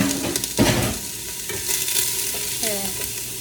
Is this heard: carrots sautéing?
yes